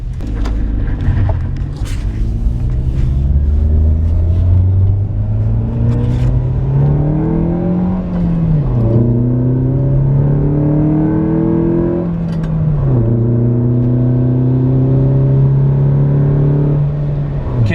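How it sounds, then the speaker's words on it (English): A Nissan Sentra fitted with a 350Z exhaust revs hard in a long pull, its engine tone climbing steadily, dipping at shifts and climbing again, with strong intake noise over a quieter exhaust note, close and loud throughout. "Definitely hear the intake, but I'm not too sure about the exhaust."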